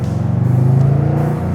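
A 1961 Corvette engine runs loud and close with a deep, steady, lumpy idle rumble and a throbbing pulse throughout.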